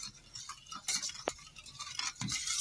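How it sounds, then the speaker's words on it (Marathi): Vanilla essence mixed into eggless cupcake batter in a bowl, heard as faint, close scraping and stirring strokes with a few light clinks, quiet and uneven. "इथं बघा आता थोडंसं व्हॅनिला एसेन्स घेतलंय, हे मी टाकू ह्याच्यात आणि मिक्स करून घेऊ."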